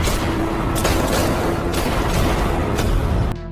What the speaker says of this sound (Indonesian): Zara langsung membantai Patrick dengan menghujaninya tembakan berkali-kali